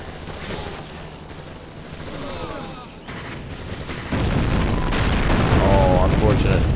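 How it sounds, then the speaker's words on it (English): IL-2 ground-attack aircraft hitting a Panther tank in Blitzkrieg II, rapid gunfire and booming impacts rattling through a battle, growing louder and denser in the second half. "IL-2 was successful in destroying that Panther"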